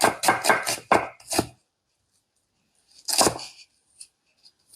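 A knife chops onion on a cutting board in a quick burst of about five crisp strikes, then falls silent, followed by one or two more chops and faint light taps.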